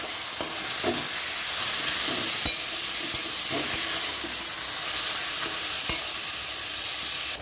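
Taro leaves cooked with spices in a pan give a continuous close frying hiss, with occasional ladle clicks and scrapes against the metal.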